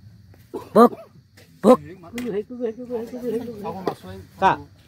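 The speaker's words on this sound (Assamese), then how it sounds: "শিয়াল নহয় কুকুৰহে" A dog gives a few sharp barks at a rural gathering, with three short, loud yaps spread out while people talk nearby throughout.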